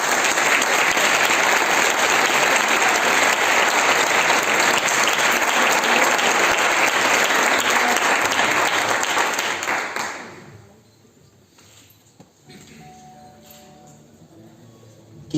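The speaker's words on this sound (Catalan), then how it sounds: "El rebem amb un fort aplaudiment." An audience at a Falles 2020 book presentation in Plaça del Cid applauds loudly to welcome a speaker. The sustained clapping runs for about ten seconds, then fades out into a quiet room with faint scattered sounds.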